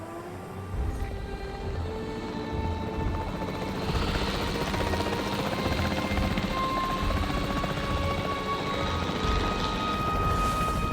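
A capture team helicopter in Jurassic World Evolution 3 whirs steadily, its rotor drone and engine whine holding loud and continuous throughout.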